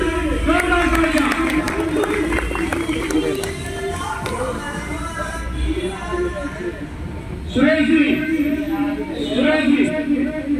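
An audience at a welcome ceremony claps in a crisp burst, strongest at the start and fading after a few seconds, while a loud voice talks over the clapping and continues afterwards.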